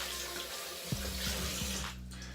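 A bathroom tap runs steadily as water is warmed for a hot towel, a continuous close splashing hiss into the sink with a few brief knocks partway through, fading near the end.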